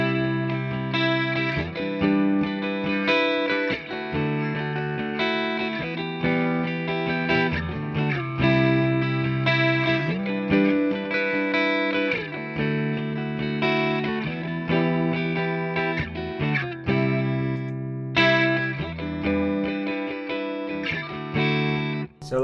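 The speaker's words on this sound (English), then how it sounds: "Yeah, that was almost just like a reverb." An electric guitar is strummed through a subtle delay effect that blurs the chords into a reverb-like wash, with continuous, fairly loud chord changes and occasional brief gaps.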